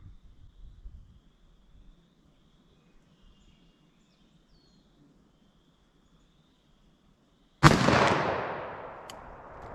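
A single loud gunshot from a Winchester Big Bore .357 Magnum rifle fired outdoors, a sharp crack after several seconds of near silence, its echo ringing out and fading slowly.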